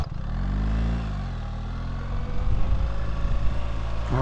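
A 2025 BMW R 1300 GS Adventure motorcycle on the move gives off a steady low engine drone and road noise. The sound grows rougher and louder partway through as the bike picks up pace.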